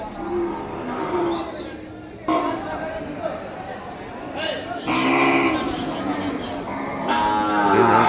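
An Ongole calf moos amid the bustle of a crowded cattle market, its calls rising over steady background chatter and other animal noise, with people talking nearby throughout.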